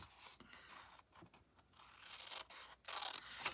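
Scissors cut the corners off a sheet of paper for a small 6x6 gift bag, making faint, close snipping and rustling in short irregular bursts.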